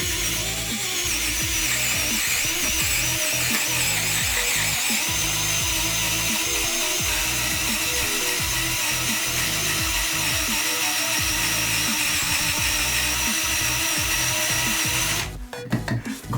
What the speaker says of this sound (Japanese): 電動ドライバーで穴開けってできるんですね。